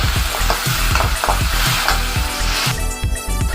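Onions and tomatoes fry in a pan for mutton paya, a loud continuous sizzle broken by rhythmic scraping stirs with a spoon, close up and with no voices.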